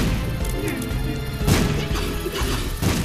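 Explosions and crashing impacts in The Binding of Isaac, with loud bursts near the middle and the end over a dense layer of busy game sound, with no voice in the clip.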